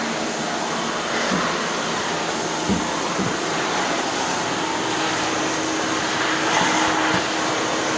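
A canister vacuum cleaner, in a comparison of Rainbow, Miele and Electrolux models, runs in bare floor mode with a steady, loud broadband roar, with a few faint knocks and clicks over eight seconds and no talk.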